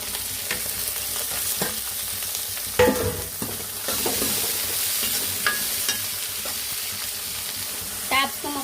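Tomato pieces frying in a pan with a steady hiss of sizzling oil, broken by several sharp scrapes and clacks of a spoon stirring, close up with no voices.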